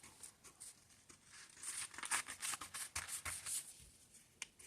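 Scissors cut through denim fabric for a six-piece bustier top, a run of crisp snipping and rustling strokes, close and fairly quiet, with no talking.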